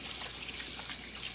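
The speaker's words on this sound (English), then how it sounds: "now I'm gonna wash my hands one more time because I just touched the chicken" Hands being washed under running tap water in a kitchen, a steady hiss and trickle of water close by without pause.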